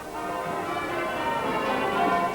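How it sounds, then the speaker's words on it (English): Church bells ring together at noon on the first day of the Millennium year in the UK, a steady wash of overlapping peals at a moderate distance, with no voices over them. "Bells rang simultaneously at noon from churches and cathedrals across the country."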